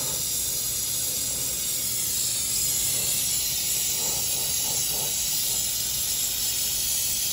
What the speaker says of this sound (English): when we unbraze these connections on the compressor